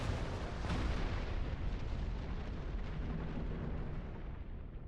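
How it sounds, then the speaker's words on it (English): A Gallo-class ship blows apart in the space combat game Star Trek Online, a loud rumbling explosion with a sharp burst early on, then a long roaring decay that fades gradually. "One Gallo-class ship destroyed."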